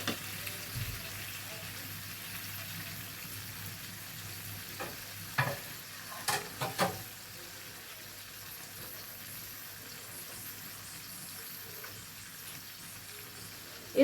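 Spiced mixture being stir-fried in a pan over low heat, a steady soft sizzle with a few louder scraping stirs midway.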